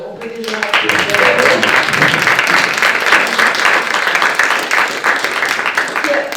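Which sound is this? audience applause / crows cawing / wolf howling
audience applause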